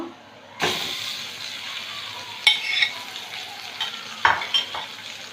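Chicken pieces drop into a hot pan of chopped onions that are already frying, setting off a sudden loud sizzle, followed by frying hiss and a few sharp scrapes of a spoon against the pan.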